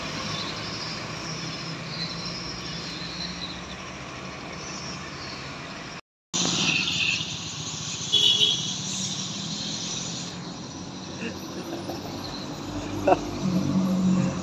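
A bus on the road from Medan toward Aceh, its engine and tyres making a loud, close rumble that builds as it passes, with brief air-brake hiss and someone talking over it.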